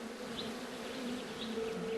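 Wild bees buzz in a steady, close drone with a slight wavering pitch, a continuous insect hum with no other sounds.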